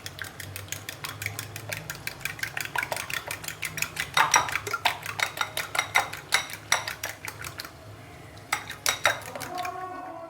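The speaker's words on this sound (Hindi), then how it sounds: "और अब मैं इसको करूँगी मिक्स अच्छी तरह से" Metal utensil clinks and scrapes rhythmically against a bowl while salt and ground black pepper are mixed for an omelette, a steady run of close, bright clatters with a brief pause near the end.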